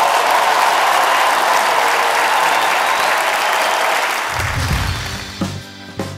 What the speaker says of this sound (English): a huge round of applause for Elmsmere College Chamber Choir